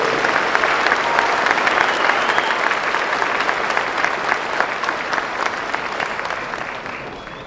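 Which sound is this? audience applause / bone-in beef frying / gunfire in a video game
audience applause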